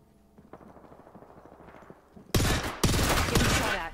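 Gunfire in the battle royale game Apex Legends: after quieter patter, a loud, rapid automatic burst erupts close by, briefly breaks, then resumes as sustained continuous fire.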